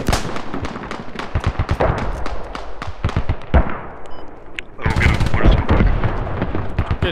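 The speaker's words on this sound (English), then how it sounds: "Good hit with the hail cannon." Heavy weapons fire in the Squad video game's Middle East Escalation mod, with hail cannon and mortar shots: dense, repeated loud booms and cracks in rapid succession, a brief lull midway, then a louder sustained barrage, with a voice occasionally heard beneath.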